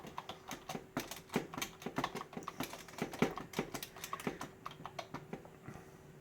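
Rapid clicking of computer keyboard keys, a run of quick, uneven keystrokes close by and moderately quiet, with no voices.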